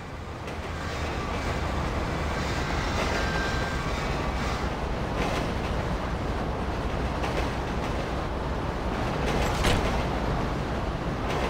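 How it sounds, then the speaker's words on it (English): A freight train rolls past in Grand Theft Auto 5, a steady, loud, broadband rumble and clatter of wagons that holds evenly for about eleven seconds with no one speaking. "Train ain't stopping here, boys!"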